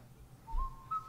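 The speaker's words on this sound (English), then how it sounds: "No, I just did a whistling commercial." A short, faint whistled phrase from a commercial: a couple of quick rising notes over about a second, quiet against low background noise.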